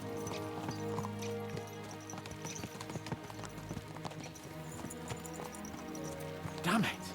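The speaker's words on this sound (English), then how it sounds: "Let's really spur these horses on, eh?" Horses gallop in the medieval video game Kingdom Come: Deliverance II, with a rapid, steady clip-clop of hooves throughout and a brief whinny near the end, under a voice.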